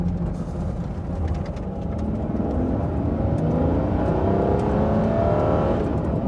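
Aston Martin One-77 EVO engine pulling hard under automatic-gearbox acceleration, a loud continuous roar whose rising harmonics sweep upward as revs climb and hang on through a long gear, steady and close.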